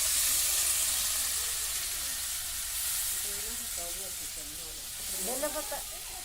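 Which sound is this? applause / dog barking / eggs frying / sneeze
eggs frying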